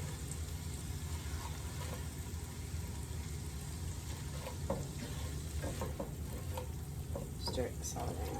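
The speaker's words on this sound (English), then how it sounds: "stir this all around." Three-cup chicken sizzles steadily in a frying pan as it is stirred, with soft scraping clicks scattered over the constant hiss, faint and fairly close.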